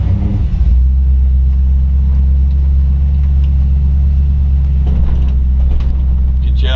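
Deep, steady rumble from a 1956 Ford F100 hot rod with a 454 big block engine and a Turbo 350 three-speed automatic, idling loud and close as it pulls away in gear.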